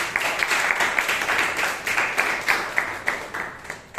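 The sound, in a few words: audience applause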